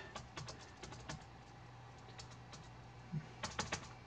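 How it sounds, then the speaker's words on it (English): Keys clatter on an Apple iBook clamshell laptop keyboard in a repair setting, quick irregular clicks in short bursts with pauses, close and fairly quiet over a steady low hum. "I just want to see if the keyboard works"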